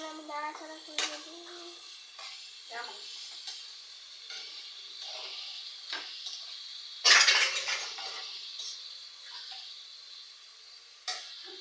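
Noodles stirred in a hot pan, with scattered metal utensil scrapes and a faint hiss of frying, one louder clatter midway, close and quiet with no speech.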